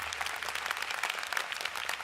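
Audience applause at a law school commencement, a dense wash of clapping from a crowd that stays fairly even and moderately loud throughout the short stretch, with no talking over it.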